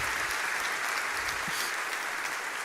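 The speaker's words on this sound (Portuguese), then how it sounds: "Aleluia, vamos aplaudir esse moço." A church congregation applauds at a worship service, a dense, even patter of many hands clapping that stays loud through the short stretch, with no talk over it.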